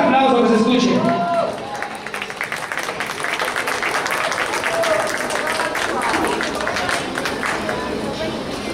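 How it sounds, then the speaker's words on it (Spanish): After a short burst of voices, a crowd at a Latin party exhibition in a dance studio breaks into loud, sustained applause and clapping with some cheering mixed in. "A ver si es fuerte aplauso que se escuche."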